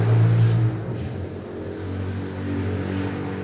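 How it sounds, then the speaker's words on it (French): Motorcycle engine passing outside an open window on a warm day, a steady mid-pitched drone that swells briefly and then holds at moderate volume, alone with no talking. "Il y a une moto qui passe."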